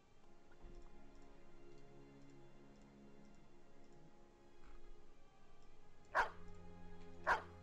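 Two short, loud dog barks from a creature in the video game Battle Brothers, set well apart near the end over a quiet background of faint, regular ticking.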